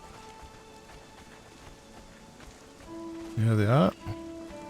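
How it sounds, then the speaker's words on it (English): Steady rain patters over a jungle in the survival game Conan Exiles, a constant soft hiss under the ambience, while someone speaks briefly and a louder sweeping sound rises near the end. "Of course, we're in the jungle, so it is raining."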